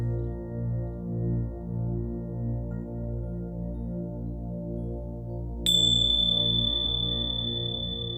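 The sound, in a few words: chime marking the end of a meditation session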